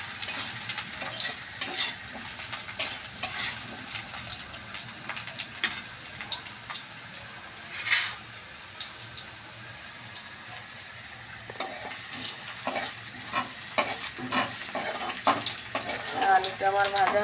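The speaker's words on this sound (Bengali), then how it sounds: "এই সবজিগুলোকে ভাজবো" Vegetables for a mixed-vegetable khichuri fry in a pan, giving a continuous close sizzle with frequent scrapes and clinks of stirring, plus one brief louder hiss midway.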